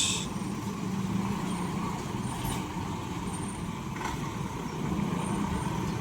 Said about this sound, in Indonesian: Dan juga truk muatan kardus.